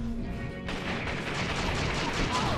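Gunfire in the Western-themed video game Secret Ponchos erupts after a short quiet lead-in and then becomes a dense, continuous burst of shots and booms.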